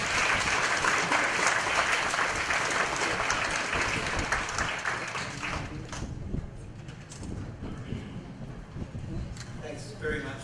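An audience at a university farewell function applauds a welcomed professor, sustained loud clapping that gradually thins out toward the end.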